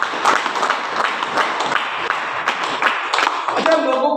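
Audience clapping at a business seminar, a dense patter of hands sustained across the room, with some voices and cheering mixed in toward the end.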